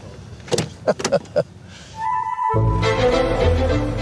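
Getting into a car in a royal park: several sharp knocks and clunks of a door and movement, then a steady engine or electric motor hum starts up and continues loudly to the end.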